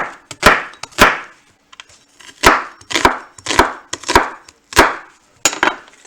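Onions chopped on a board with a 67-layer Damascus steel knife, a run of crisp close blade strikes in an irregular rhythm with short pauses between bursts.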